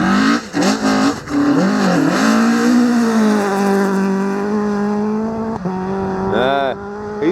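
A rally car competes on the Riponian Stages at Gale Rigg, its engine rough and uneven as it revs hard and rises and falls in pitch while passing close by. A voice is heard briefly under the engine.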